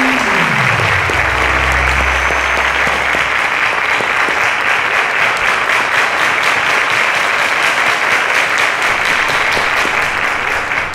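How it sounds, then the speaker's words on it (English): A studio audience on the quiz show Cowbellpedia applauds the young contestants, a loud, sustained burst of clapping that holds steady for several seconds, with a low musical tone fading out early on. "Ladies and gentlemen, a round of applause to them"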